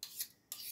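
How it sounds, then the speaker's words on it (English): A spoon scrapes Christmas cake-mix cookie dough off a larger spoon in two quiet, close rasping strokes with a short gap between them. "I am going to use another spoon to help get some of the stuff that's already on the big spoon off"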